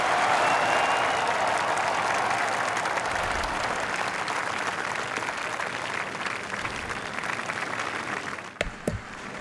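A golf course crowd in a video game applauds steadily and loudly for several seconds, the clapping slowly thinning toward the end and closing with a couple of sharp knocks.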